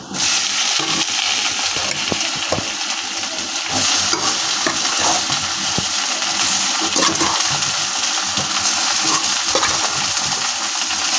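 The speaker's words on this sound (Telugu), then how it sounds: "ఇప్పుడు దీంట్లో మనం మగ్గించి పెట్టుకున్న రొయ్యల్ని యాడ్ చేసేయాలి" Tiger prawns tipped into a pan of browned fried onions, giving a steady close sizzle and frying hiss with occasional stirring scrapes throughout, no talking.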